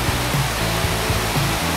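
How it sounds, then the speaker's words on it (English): Babbling brook beside a parked RV in a forest, a steady broadband rush like a small waterfall running continuously and fairly close, with no voices. "we've got the babbling brook on the side of the RV with the constant noise of like a waterfall."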